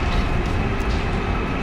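Loud, steady rumble of a train in a Space Marine video game train level, a continuous rolling roar with no break through the short stretch.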